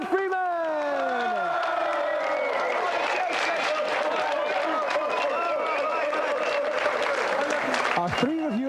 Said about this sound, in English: let's have a round of applause for tonight's contestant, Adam Freeman